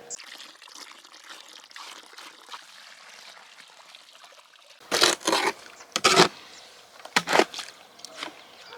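Water poured in short bursts onto dry mortar mix outdoors in hot sun, three or four loud splashing gushes after a quiet stretch of faint background.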